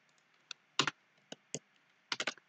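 Keys tapped on a computer keyboard to enter a shortcut: a few sharp, quiet clicks followed by a quick cluster of three or four presses near the end, close and isolated against near silence.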